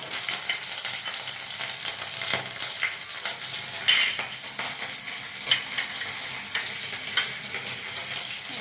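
Fenugreek, green chillies and curry leaves sizzle steadily in hot oil, with a spoon stirring and scraping the pan now and then.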